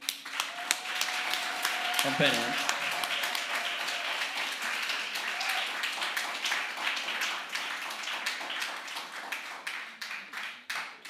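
An audience at a market research awards ceremony applauds the presenters, with steady, moderately distant clapping that builds and carries on throughout, while someone speaks briefly near the start.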